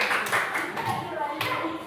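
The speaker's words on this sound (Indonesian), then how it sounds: "tepuk tangan buat kelompok kedua." A classroom of students claps briefly for the second group after its presentation, a short burst of clapping with some talk mixed in, fairly close and loud.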